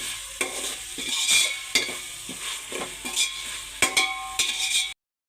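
Vegetables for veg biryani sizzling and frying in a pan while being stirred, with repeated scraping strokes of a spoon against the pan over a steady hiss, close and fairly loud, ending abruptly.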